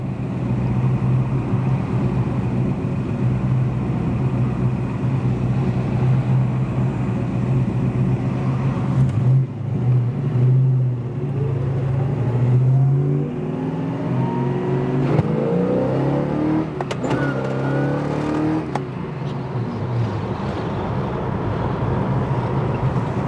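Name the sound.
1972 Chevelle accelerating hard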